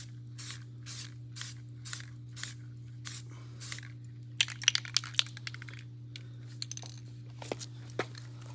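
A rattle can sprays brown paint onto the barrel of an MK12 rifle in a series of short, rhythmic hissing bursts, with small clicks and taps in between over a steady low background hum.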